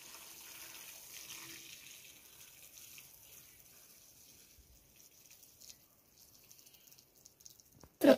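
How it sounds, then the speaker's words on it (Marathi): Rice-washing water is poured from a vessel onto a farm field, a soft gushing splash that fades to quiet trickles before a sharp clatter at the very end. "तर बघा आता हे पाणी ना मी इथंच आमचं शेजारी वावरच आहे ना तर तिथंच टाकते."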